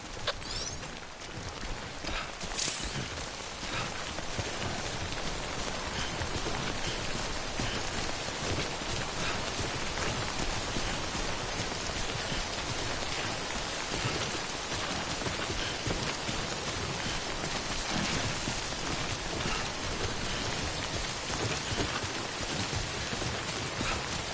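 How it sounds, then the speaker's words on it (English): Steady timefall rain pours throughout in the Death Stranding video game, a dense, even hiss of drops on surfaces with no voices and no letup. "remember that prolonged exposure to timefall damages cargo containers. Don't stay out in the rain any longer than you have to."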